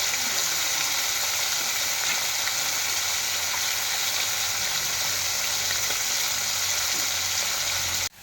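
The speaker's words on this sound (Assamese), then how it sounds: "ভাজি কৰি আছোঁ মই বৰলীয়া মাছটো।" Borolia river fish fries in hot oil in a home kitchen, a steady, loud, even sizzle holding throughout without talk, cutting off abruptly at the end.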